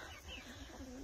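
Chickens in a backyard yard, including a Brahma and red and black hens, give short clucks and soft calls in a brief, fairly quiet burst with nearby bird chatter.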